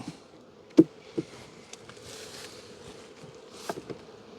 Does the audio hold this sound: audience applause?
no